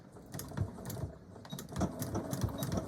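A sewing machine stitching through several layers of handbag fabric runs in a steady mechanical chatter, its rapid stitching pulses rising and falling slightly, close and alone with no voices.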